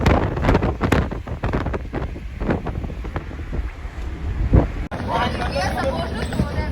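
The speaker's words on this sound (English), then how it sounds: "I'm finally in the ferry. We are going Alibag by ferry" Wind buffets the microphone on a ferry ride to Alibaug, a loud, continuous rush over the boat's low rumble. A voice speaks briefly near the start, and the gusts stay steady to the end.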